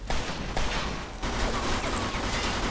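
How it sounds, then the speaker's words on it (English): Tommy gun fire in Mafia 2, a loud, dense and continuous rattle of automatic shots with only brief dips in the barrage. "Oh, stupid Tommy guns"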